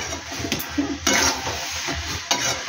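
Thick, sour jujube pickle syrup is stirred in a pan with a spoon, giving repeated close scraping strokes and a few louder swishes over a steady low bubbling, with no talk.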